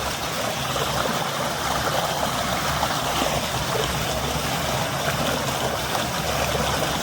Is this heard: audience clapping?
no